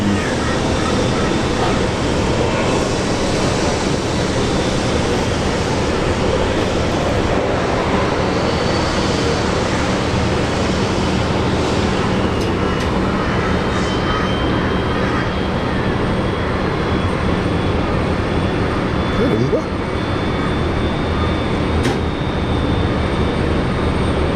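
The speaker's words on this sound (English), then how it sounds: "So we got Unity call sign for the Alliance Fokker 70" An Alliance Fokker 70 airliner at Brisbane airport gives a constant loud broadband engine roar on the runway, holding steady throughout with no breaks.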